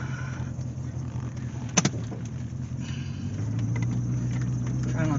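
A 1984 C4 Corvette on the road after a brake booster replacement, with a steady engine and road rumble that builds slightly louder toward the end, plus a brief click or clunk early on, while someone talks over it.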